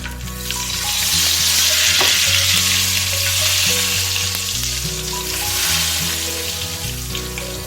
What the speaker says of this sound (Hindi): ये तड़का हमारा रेडी हो चुका है, मैं इसको दाल पे डालूंगा।